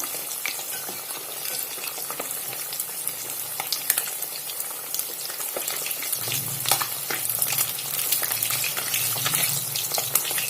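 Fish pieces sizzle steadily in hot oil as they fry until red and crispy, with continuous crackling and occasional stirring scrapes throughout; no one speaks.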